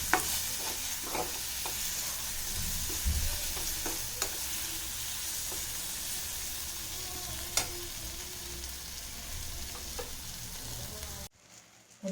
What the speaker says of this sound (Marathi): आता हे सगळं फोडणीमध्ये छान मिक्स होऊ द्यायचं